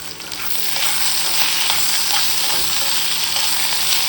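Jackfruit seeds frying and sizzling in a pan as they are stirred, a steady close hiss with light scraping throughout, no talk.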